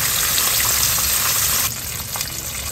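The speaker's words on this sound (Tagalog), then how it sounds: "Napakaganda po ng pagkakaprito sa ating giant tilapia." Giant tilapia frying in hot oil, a loud, steady crackling sizzle close up that dips slightly partway through before carrying on, with no voices.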